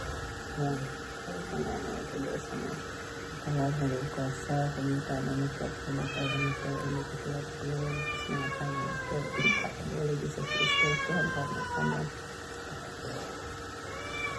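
Cat meowing several times in a rural kitchen, faint and fairly distant, with repeated rising mews over a steady mains hum and some background voices.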